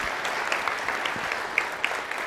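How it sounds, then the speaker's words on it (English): A conference audience claps in a steady, dense round of applause, with a few sharper individual claps standing out near the end; no one speaks over it. "Round of applause."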